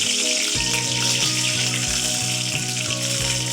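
Mustard seeds sizzle and crackle in hot oil for a tempering, a steady close frying hiss with faint repeated popping and a low humming tone underneath, no voices.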